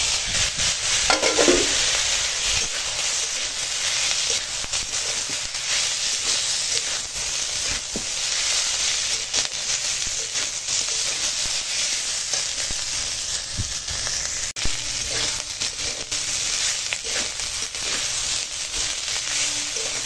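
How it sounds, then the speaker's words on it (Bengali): Chopped vegetables and tomato frying in a pan for a bitter gourd chorchori, a loud continuous hissing sizzle with steady stirring underneath, close and without speech for the whole stretch. "এবার আনাজটা অনেক সময় ভাজা হয়ে গেছে"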